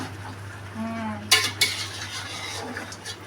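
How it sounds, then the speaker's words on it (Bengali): Meat for biryani being stirred in a cooking pot, with a couple of sharp metal scrapes of a spoon against the pot over a low steady background hum, close and fairly quiet. "দিদি এখানে মাংস নাড়ছে"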